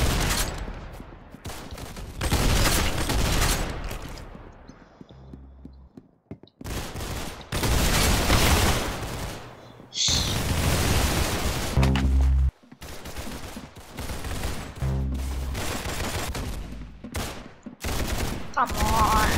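Gunfire in an Arsenal-mode video game: loud bursts of rapid shots broken by brief pauses and separate heavy bangs, spread through the clip.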